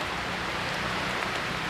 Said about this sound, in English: You can see a bit of rain now coming through here, but it's not stopping anyone.